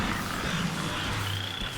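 Frogs croak steadily throughout the Rain of Toads spell in Diablo III, cast by a Witch Doctor, a dense continuous chorus with low rumbling effects underneath and no talking.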